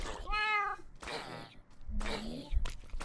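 A Minecraft cat gives a couple of short, high meows while a person talks over and between them.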